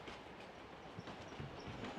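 A passing train in a video game, a faint, steady low rumble with light rhythmic clacking that stays continuous throughout.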